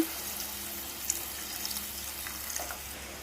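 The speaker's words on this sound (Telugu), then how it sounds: "ఇంకొంచెం వాటర్ కూడా పోసుకుందాం." More water poured into a pot of dried fish curry with tamarind, a quiet, steady trickling stream with a few small splashes and clinks, no voices.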